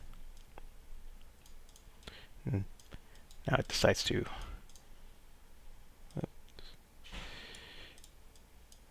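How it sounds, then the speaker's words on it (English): Mouse clicks and a keyboard key being held while working in 3D software to create water, giving sharp, close clicks scattered among a speaking voice. "Or I can just hold the 1 key on my keyboard and left click."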